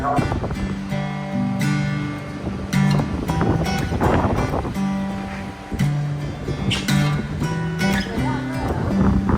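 Windy ambience aboard a ferry crossing from North Wales toward Ireland, a steady rush of wind and engine hum with sustained tonal drones and scattered knocks, continuous and fairly loud.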